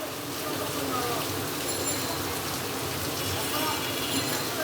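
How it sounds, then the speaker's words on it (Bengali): Heavy rain falls outside as a soft, steady hiss of drops on surfaces, faint and distant, continuing without pause under a quiet indoor setting. "বাহিরে কিন্তু অনেক বৃষ্টি হচ্ছে"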